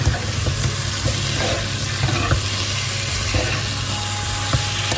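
Pork bones stir-fried in a pan with pounded curry paste for a lemongrass and basil dish sizzle loudly and continuously, broken by occasional clacks and scrapes as they are stirred. No voices.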